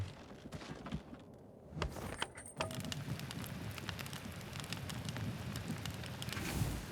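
Steady rain in the video game WarTales, a dense continuous patter of drops with soft gusts of wind, even and unbroken throughout with no voices.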